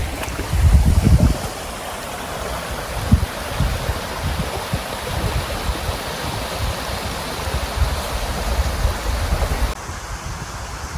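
A river flowing beside a riverside campsite at Nyampay camping ground in Bandung, West Java, gives a steady broadband rushing of water. It is fairly loud and continuous throughout, with a few brief low thumps, and no talk.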